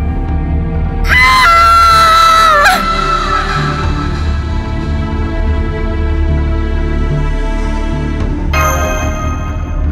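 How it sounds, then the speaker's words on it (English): A woman screams in the anime Fate/Grand Order, one loud, sustained cry lasting about two seconds before fading into a low ambient drone with a later high tone. "It was a woman's scream for sure."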